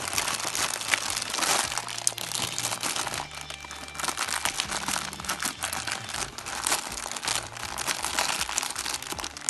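Close, continuous crinkling and rustling of a small plastic packet holding a toy transformer being handled, busy and loud throughout with no pauses.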